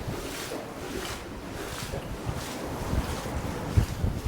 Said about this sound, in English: I'm getting absolutely blasted by the wind again.